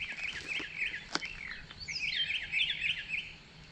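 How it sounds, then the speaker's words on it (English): An orchard oriole sings a rapid, jumbled series of bright warbling phrases outdoors at moderate distance, in a quiet rural setting during a breeding bird survey. "orchard oriole again"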